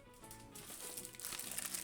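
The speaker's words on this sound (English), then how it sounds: "So I need this piece of plastic that I've cut out." A heavy-duty plastic protector sheet from a dollar store, handled for a shaker card, crinkles and rustles softly up close in a brief burst of crackling.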